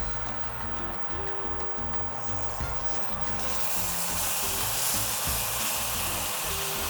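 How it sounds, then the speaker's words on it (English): Meat sears in hot oil in a pan for surf and turf noodles, a steady close sizzle and crackle that swells louder in the second half, with a few clinks of utensils at the start. "press down on the meat so there's pressure and contact with the oil and the pan, so you get a really good sear"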